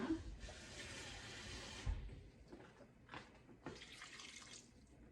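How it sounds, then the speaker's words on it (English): Tap water runs steadily into a cooking pot for green beans, a loud continuous splashing gush that shifts in tone as the pot fills, with brief clanks of the pot, no talking. "For the water, you just want to cover the green beans."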